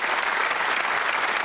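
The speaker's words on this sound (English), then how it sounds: "Give her a round of applause" A TV game-show studio audience breaks into steady, dense applause for a contestant, a loud continuous roar of clapping with no voices over it.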